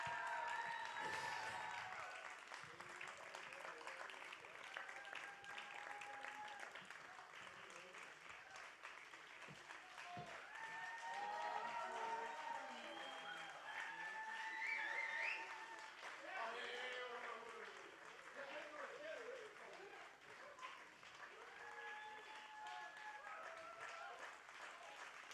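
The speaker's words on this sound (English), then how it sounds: "Big applause." Audience applause fills a concert venue at the close of a jazz set at a Baltic jazz festival, steady sustained clapping with swells, a voice speaking over it at times.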